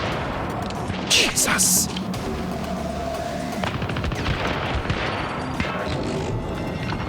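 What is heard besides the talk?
gunfire in Syndicate video game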